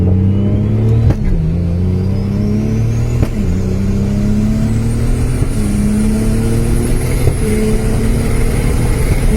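Mazda RX-8 fitted with a 2JZ engine and a BMW M3 7-speed DCT gearbox pulling away, loud and close, the engine note rising through four quick gear changes, each with a brief dip in pitch.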